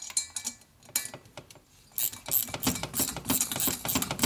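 A tight bolt is turned in the cylinder head of a Harley shovelhead engine during a rebuild. Close ratchet clicks and metallic clinks come in quick bursts after a quieter start, with no talking.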